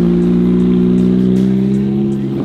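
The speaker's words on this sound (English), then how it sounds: "I see a bright yellow Huracan SPYDER pulling up" A bright yellow Lamborghini Huracan Spyder rolls up nearby, its engine holding a steady, loud, droning tone that eases slightly as the car slows.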